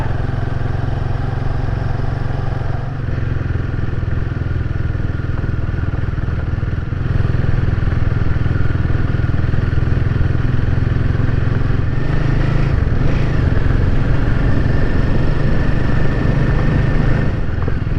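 A motorcycle ridden along roads on New Zealand's Coromandel Peninsula, its engine droning steadily and loud throughout with a slight rise in intensity partway, no talking over it.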